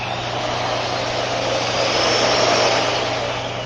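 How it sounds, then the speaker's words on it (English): A very old Betty Crocker whisk beating kladdkaka batter, a steady, dense scraping whir that swells slightly midway, close and continuous without talk. "now I'm going to use my very old Betty Crocker whisk to make this into a crumbly mess"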